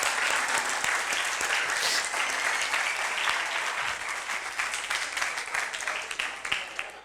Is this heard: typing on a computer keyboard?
no